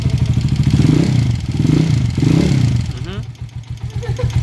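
A loose-valve-clearance TMX155 motorcycle engine runs with a steady mechanical clatter and rapid ticking over its low idle hum, loud and close, with talk alongside much of it.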